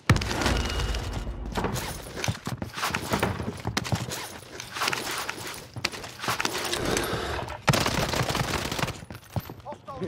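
Rapid gunfire from Call of Duty Warzone on Rebirth Island, Kar98k rifle in play, with repeated sharp bursts and shots running continuously over a busy battle din, occasional footsteps-like clatter mixed in.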